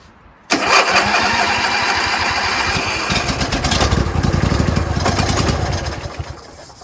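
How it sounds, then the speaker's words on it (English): A Briggs & Stratton 20 HP V-twin engine on a John Deere Z225 zero-turn mower is cranked by its starter, giving a loud, steady, rhythmic churning for about six seconds without catching, close up. "It's going to take a while, bunch of cranks to get fuel from going through there into the fuel filter."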